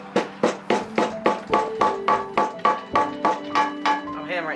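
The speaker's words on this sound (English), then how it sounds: "I'm hammering it, it hasn't even moved." A hammer strikes a seized intake valve on a 7M-GE engine cylinder head about a dozen times in a steady, fast rhythm, each blow a sharp ringing metallic clang, loud and close.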